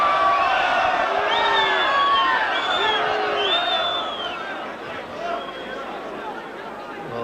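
A stadium crowd at a 1989 rugby league match between Great Britain and France in Avignon lets out scattered whistles and jeers that fade into a lower murmur, with a commentator talking over the noise.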